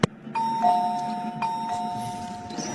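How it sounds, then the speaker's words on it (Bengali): Electronic doorbell ringing indoors, a clear two-tone ding-dong chime that sustains and repeats over a couple of seconds, fairly close and with no talk. "এতবার কলিং বেল বাজাইয়ের দরজা খুলে না কা, ঘটনা কি?"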